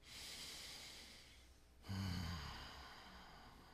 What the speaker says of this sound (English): Join me in taking a breath.